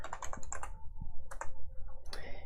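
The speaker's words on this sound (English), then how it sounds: "Type in the ticker." Quick bursts of clicking keystrokes come from a computer keyboard as a stock ticker is typed in, close and crisp in uneven clusters with short pauses between them.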